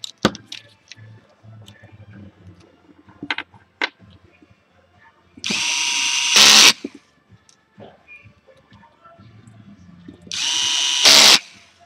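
Rear plate being screwed onto a nitro engine, with small clicks and tool handling, then two loud bursts of a power drill or driver whirring for about a second each, close up.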